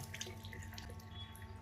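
Water poured onto a woven fabric with a wave-pattern weave, a soft, continuous trickling and splashing flow, quiet and close, with no voices.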